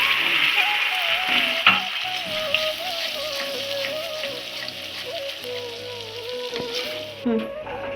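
Spice paste with a pinch of asafoetida fries in a pan for a paneer dish, a steady close sizzle running throughout with occasional scrapes and clinks of a spoon stirring it.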